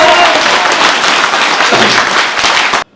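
Dense, loud applause from a seated audience at a Kangen water seminar in West Bengal, steady clapping that fills the room before cutting off abruptly.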